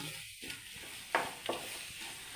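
Egg thoran fries in a pan under a soft, continuous sizzle, with a couple of distinct spatula scrapes as it is stirred.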